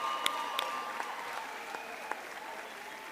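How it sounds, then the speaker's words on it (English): Steady applause for the faculty team comes from the audience at a DUT Faculty of Accounting and Informatics graduation ceremony in Durban, with a few sharper claps standing out. It is fairly faint and continuous, with no speech. "Let's give them a round of applause."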